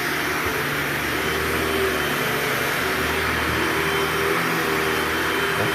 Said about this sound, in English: I've been talking and vacuuming away.